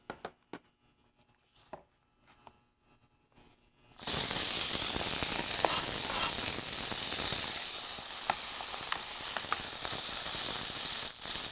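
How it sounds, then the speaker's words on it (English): Tomatoes for a dish of roasted Pimentos peppers with prosciutto and mushrooms hit a hot pan after a few quiet knocks, then sizzle loudly and steadily with a bright, hissing crackle that continues to the end. "So we'll cook tomatoes a little bit."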